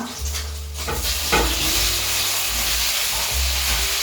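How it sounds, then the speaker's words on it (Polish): Loud, steady sizzling of potatoes frying in a pan, with occasional stirring scrapes and a constant hiss throughout. "podsmażę ziemniaczki i będzie pyszne."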